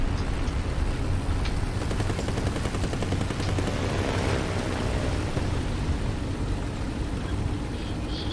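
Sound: aircraft strafing gunfire in video game War Thunder

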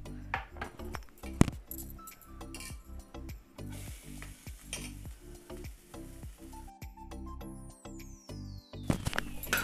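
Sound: grated coconut and coriander being roasted in a pan

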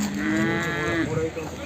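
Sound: buffalo mooing

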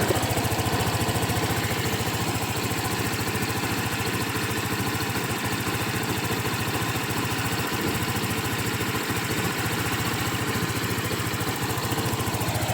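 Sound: engine of a Seha 150 running

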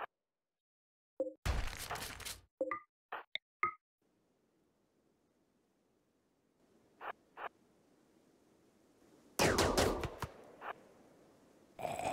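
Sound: gunfire in video game RimWorld

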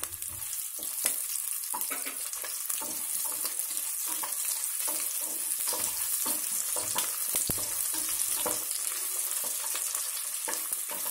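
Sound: chopped onions frying in oil for prawn biryani

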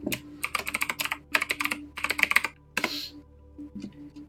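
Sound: typing a username on a computer keyboard

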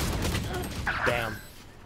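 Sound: gunshots from a video game shooter

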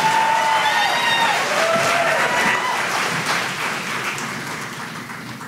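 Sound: audience applause

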